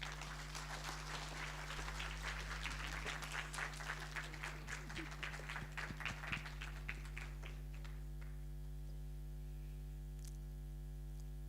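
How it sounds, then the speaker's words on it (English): Audience applause at an international faculty conference of management and law, a steady clatter of many hands that gradually thins and stops, leaving a faint electrical hum. "Another round of applause for him, please."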